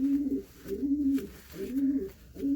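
Domestic pigeons coo in a loft at close range, a soft low repeated rolling call in three or four phrases with brief pauses between.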